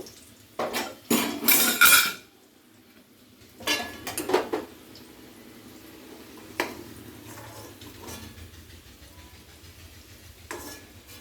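Metal utensils scrape and clank against a pan while fried potatoes are lifted out, a few loud bursts early on, then softer knocks over a faint background sizzle of oil.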